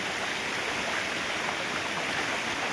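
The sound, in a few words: small rain-fed stream flowing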